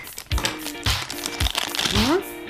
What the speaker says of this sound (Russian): Открываем кулечек.